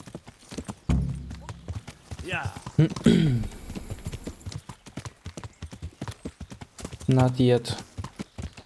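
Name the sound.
horse hooves clip-clop while riding, Kingdom Come Deliverance video game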